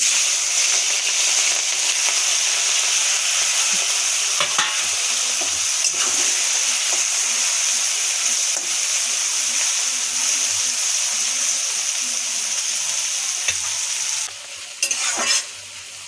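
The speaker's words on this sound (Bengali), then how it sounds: "চিংড়ি মাছগুলো ভেজে নেব" Shrimp sizzles loudly and continuously as it fries in oil in a pan, with occasional scraping and stirring clicks near the end.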